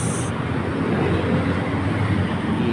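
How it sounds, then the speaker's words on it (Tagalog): A steady, loud rumble of an elevated MRT metro train rolling past on EDSA in the Philippines, with a continuous low roar and rushing noise throughout, plus a brief high whine at the start. "MRT po yan, yung mahabang sasakyan."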